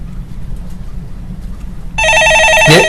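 A telephone starts ringing with a loud, steady electronic trill during a Korean stock-market call-in show, after a stretch of quiet room noise, with a brief rising tone near the end.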